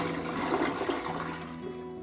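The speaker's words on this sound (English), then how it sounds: "I'm gonna flush the toilet, get everything out of there" A household toilet flushes in a continuous rushing, gurgling wash of water, up close, during a toilet replacement job.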